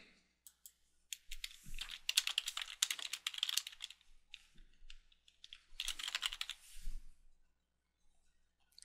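Bursts of typing on a computer keyboard, close and fairly quiet, with rapid key clicks in two main runs separated by brief pauses and no talking.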